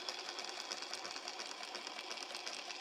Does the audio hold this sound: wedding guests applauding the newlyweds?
no